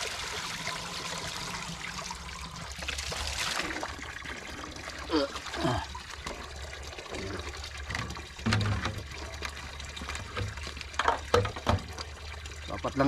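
Water flowing out of a pipe in snowy conditions trickles and splashes steadily throughout, a continuous wet rush with occasional louder gurgles and some faint background noise.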